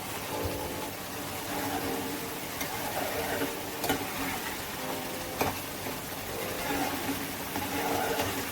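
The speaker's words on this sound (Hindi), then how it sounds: "गैस के फ्लेम को मीडियम करेंगे और मसाले को अच्छी से भूनेंगे।" Spice masala for soya keema sizzles in a pan over a medium gas flame, a constant crackling fry with occasional sharper scrapes of stirring close by.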